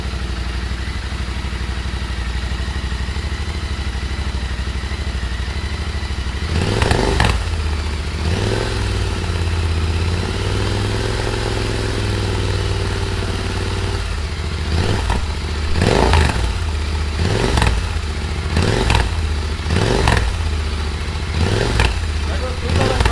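A Royal Enfield Interceptor GT 650 fitted with an AEW TE102 stainless megaphone exhaust idles with a steady, deep rumble, then is blipped repeatedly toward 2500 RPM in short, sharp revs close by.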